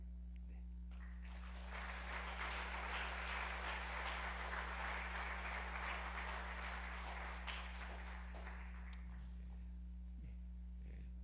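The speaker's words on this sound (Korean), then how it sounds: "큰 박수 해 주시기 바랍니다." Sustained applause from a church congregation during a Sunday worship service in Korea, steady and full for about eight seconds before tapering off, over a constant low electrical hum.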